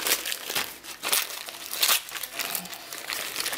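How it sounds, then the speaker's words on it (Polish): Outer wrapping of a mail-order parcel of wax melts is torn open by hand, giving a continuous papery crinkling and ripping with bursts of louder crunches, close up and alone. "Rozerwę, bo to jest tylko wierzchnia."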